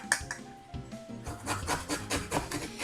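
A blood orange zested against a grater, close and dry with repeated short rasping strokes that quicken into a steady scraping rhythm.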